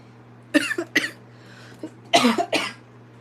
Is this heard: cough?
yes